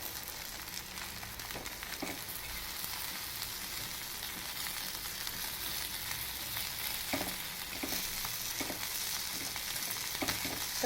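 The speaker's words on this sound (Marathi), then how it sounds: "अशा मसाल्यामध्ये सुद्धा अशी आपण मच्छी फ्राय करू शकतो पण खूप जास्त तेल नाही टाकायचं थोडं थोडं तेल टाकून हे करायचं आहे" Fish coated in masala frying in a small amount of oil, giving a steady close, dense sizzle throughout with a few faint scrapes of stirring.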